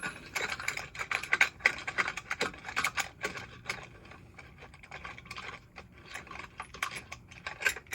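A ratchet backs a long bolt out of an ATV clutch, with quick bursts of light clicking close up, pausing and resuming irregularly.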